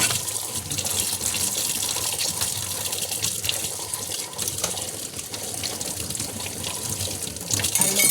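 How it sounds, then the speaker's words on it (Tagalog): Plates are washed under a running tap, with steady loud water splashing into a sink and occasional faint clinks of dishes throughout. "Hugas tayo, plato."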